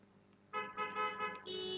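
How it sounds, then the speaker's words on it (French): Car horns honk outside, several overlapping toots in a short run with a sustained blare at the end, moderately loud and mixed into a faint street background. "Je ne sais pas si vous entendez les klaxons."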